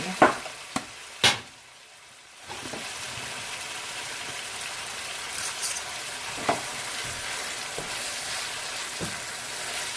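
Ground beef with a curry potato mixture frying in a pan, giving a soft, steady sizzle after a few brief knocks and a short pause, with occasional faint clicks of stirring.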